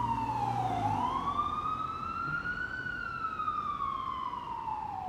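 An emergency vehicle siren wails nearby with a slow rising and falling tone, sweeping down, climbing again and gliding lower over a low road rumble.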